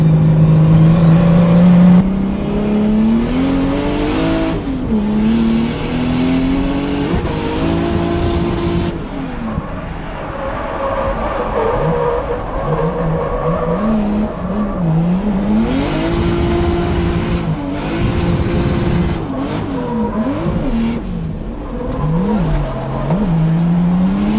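A drift car at a Lone Star Drift round revs hard and close, the engine pitch climbing and dropping repeatedly while tires squeal through long slides.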